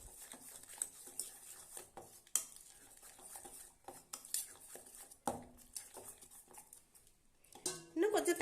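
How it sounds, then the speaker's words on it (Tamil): A metal whisk beats banana dosa batter in a bowl, making rapid rhythmic clinks and scrapes against the sides, close and fairly loud, with a voice speaking over it. "ஒரு விஸ்கு வச்சு இப்படி கலந்துக்கோங்க"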